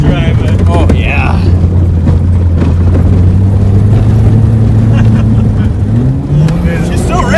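A Saturn car's engine revs hard through a long burnout on a driveway: a loud, sustained droning roar that holds steady, then climbs in pitch near the end, with voices talking over it.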